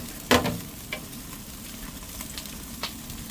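A whole USDA Select top sirloin beef loin sears in a hot pan with a steady close sizzle, a sharp spatter or clatter at the start and a few fainter ticks later.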